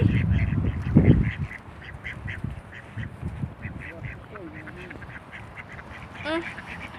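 Wild ducks abroad quacking in a series of short calls, moderately near, with a louder burst of voices and noise at the start and a faint high call near the end.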